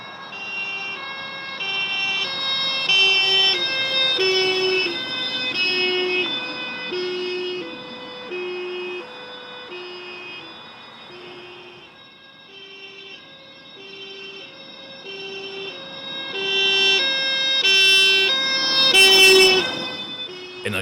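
A wailing siren on a Mercedes-Benz 190E police car cycles through two alternating tones, loud and close, dipping briefly midway before rising again.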